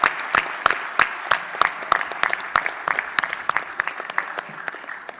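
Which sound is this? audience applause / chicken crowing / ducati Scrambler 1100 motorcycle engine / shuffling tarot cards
audience applause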